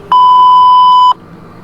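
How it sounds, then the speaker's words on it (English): A single loud, pure electronic tone from an answering machine, held steady for about a second and then cutting off cleanly into quiet. "Please leave your name and phone number after the beep."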